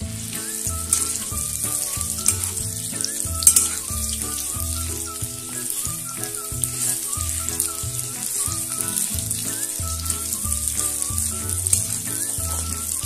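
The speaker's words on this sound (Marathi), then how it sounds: "शेवटी आपण ही खजूर आता चांगली तुपात मेल्ट करून घेऊया।" Chopped dates melting and sizzling in ghee in a pan over the heat switched off, a steady close crackle with soft stirring and scraping for dry-fruit laddus.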